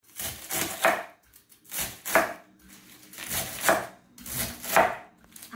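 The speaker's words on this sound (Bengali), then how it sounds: "আমি শাকটা কাটি" Radish greens chopped with a knife on a board, about half a dozen short bursts of rapid cutting strokes separated by brief pauses, close and clear, with no talking.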